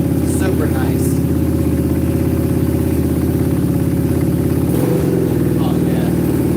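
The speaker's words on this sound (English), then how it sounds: "This thing's got a Yoshimura exhaust." A scooter fitted with a Yoshimura exhaust runs steadily close by, its even mid-pitched engine hum and exhaust drone continuous throughout, with a slight dip near the end.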